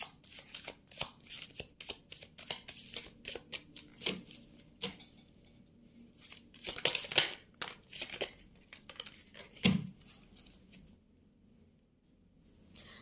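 Tarot cards being shuffled during a card reading: a rapid run of crisp papery riffles and flicks, close and steady, with short pauses and a quieter stretch near the end, no talking.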